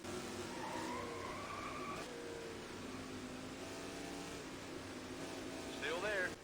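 A NASCAR race car engine in the NASCAR Rivals video game revs and shifts through rising whines, with a brief burst of tire or engine noise near the end.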